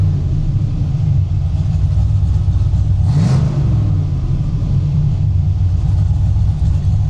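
A 765-horsepower Mustang on pump gas with Holley EFI gives one loud rev that swells and drops back to a deep, steady idle rumble, close by.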